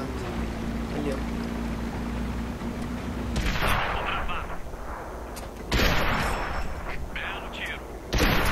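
Two heavy tank cannon blasts in the video game World of Tanks boom out a couple of seconds apart, each with a ringing tail, over a constant low engine drone.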